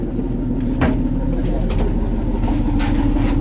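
A 25-horsepower outboard motor drives a small catamaran river ferry, giving a loud, steady engine drone that holds at the same level throughout.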